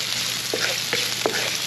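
Garlic and ginger are being sautéed in oil in a pan, with a steady, quiet sizzle and a few short stirring scrapes.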